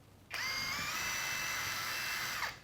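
A red ONEVAN cordless screwdriver drill spins up sharply, whines at a steady high pitch for about two seconds, then winds down, heard close and alone.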